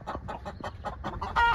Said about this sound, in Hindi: मुर्गा अच्छा है